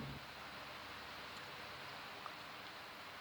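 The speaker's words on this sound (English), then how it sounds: "You can probably hear the rain in the background" Steady, even hiss of rain falls throughout, a soft constant wash of noise with no other distinct sounds.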